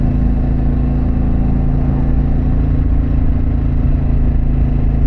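Harley-Davidson Pan America motorcycle fitted with a Vance exhaust, ridden along a town main street in New Jersey: a loud, steady engine drone holds throughout without pause.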